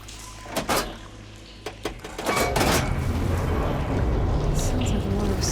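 Machinery in the video game Horizon Forbidden West switches the water flow: a few metallic clunks and knocks, then a loud, sustained rushing of water that carries on steadily to the end.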